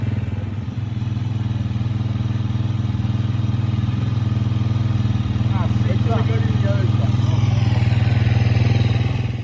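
A dirt bike engine idles and revs steadily in the woods, a loud continuous buzzing drone with some clattering and a brief rising rev near the end.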